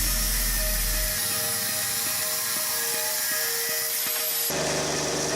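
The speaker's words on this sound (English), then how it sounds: "clamp the pin in a vise and cut off the required distance" A metal pin clamped in a vise is cut with a power tool, giving a steady loud whine with a rhythmic grinding pulse that runs through most of the stretch before cutting off abruptly near the end.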